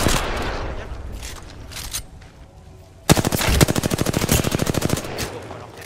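Rapid automatic gunfire from the Apex Legends battle royale game starts abruptly after quieter ambient sounds, a loud, close stream of evenly spaced shots lasting a couple of seconds before fading.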